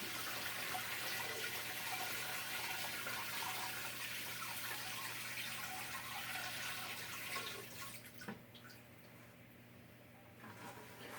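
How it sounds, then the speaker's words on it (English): Water filling a Fluval Flex fish tank aquarium, a steady broadband rushing and splashing that continues evenly before easing off near the end, close and without talk. "I am adding in the water first because that's just how I want to do it."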